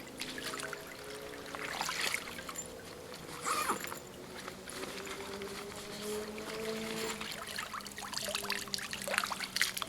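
Water trickles and drips from a waterproof WW2-style canvas bag outdoors, a continuous close dribble with scattered splashes and fabric rustles, no voices.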